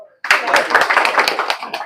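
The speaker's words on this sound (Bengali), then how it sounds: "আমার মনে হয় একটা হাততালি দেওয়া উচিত" Applause for the opening of a Jotun paint showroom in Fatikchhari, Chattogram, starts after a brief quiet moment and carries on as a dense, steady patter of many hands clapping together, with voices mixed into the noise.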